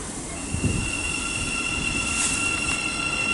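A stopping passenger train pulls out of St Albans City station and picks up speed, its steady rumble carrying squealing wheel tones and a rising whine heard from the platform, with no talk.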